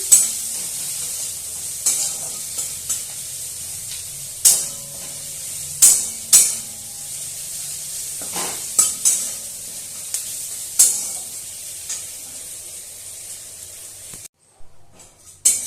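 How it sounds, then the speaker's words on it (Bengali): Onions fry in a pan with a continuous close sizzle, broken by a dozen or so sharp stirring scrapes at irregular intervals and no talking. "পেঁয়াজটা ভাজা ভাজা হয়ে গেছে"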